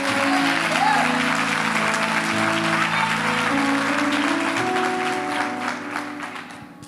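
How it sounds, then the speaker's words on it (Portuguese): A church congregation applauds, a steady wash of many hands clapping together that holds for several seconds and then fades out, with a voice speaking over it. "Se é para aplaudir, vamos fazer direitinho."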